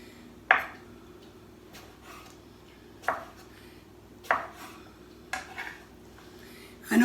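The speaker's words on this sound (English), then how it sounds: "So now I'm going to basically just slice them a little thinner" A knife slices through cucumber for a Japanese cucumber salad. Several sharp, separate cuts land against a board at an irregular pace, close and clear, with quiet gaps between them and no talking.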